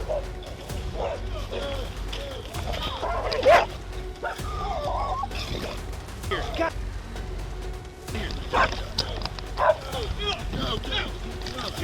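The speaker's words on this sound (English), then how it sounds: "officers responded to a call about a loose dog in a neighborhood" Pit bull dog barking during a police call about a loose dog in a neighborhood, several loud barks and yips scattered among excited talking voices and background noise.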